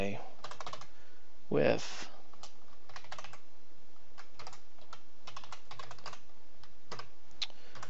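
Fingers type on a computer keyboard in quick, irregular runs of close, crisp keystroke clicks with short pauses between them, and a brief voice cuts in once.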